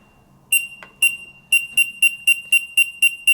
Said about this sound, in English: The device will beep. It beeps approximately every 1 second during normal operation